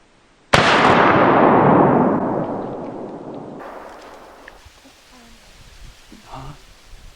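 A single loud, close gunshot fired at a whitetail buck during a hunt in Iowa, a sharp blast followed by a long decaying rumble across the field, then faint voices and quiet outdoor ambience.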